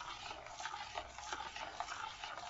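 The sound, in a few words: stirring eggs into semolina cake batter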